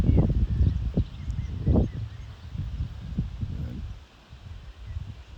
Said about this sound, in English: it's quite windy today, so I hope you can hear me okay